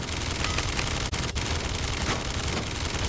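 Dense gunfire from a Realm Royale battle, a near-constant loud rattle of rapid shots with two brief gaps, heard on its own without talk.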